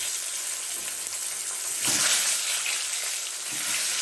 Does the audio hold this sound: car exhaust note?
no